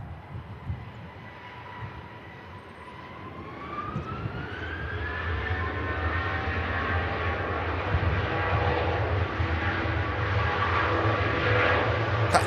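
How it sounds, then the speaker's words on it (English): A jet airliner at Manchester Airport bound for Kerry, Ireland, its engine roar building steadily from a distant whine into a loud, sustained rumble with a rising tonal whistle. "Aircraft heading to Kerry in Ireland."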